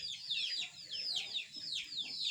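Free-roaming chickens kept outside any coop cluck in a series of quick, high chirping calls near the microphone, repeating in uneven bursts over faint low background noise.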